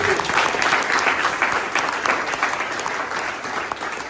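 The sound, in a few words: applause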